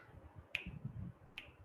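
Two crisp, faint finger snaps sound about a second apart during a senior kindergarten class session, with soft room noise around them.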